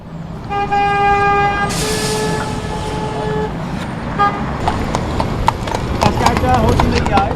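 Hooves of Central Park horse-drawn carriages clip-clop on a busy Manhattan street, a steady close trot with a car horn blaring and traffic rumbling around it, while a voice talks over the scene.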